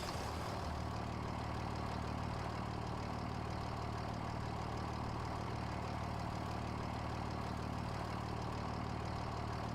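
Tractor engine idling in the Farming Simulator 25 video game, a steady low, continuous rumble held evenly throughout with no talk over it.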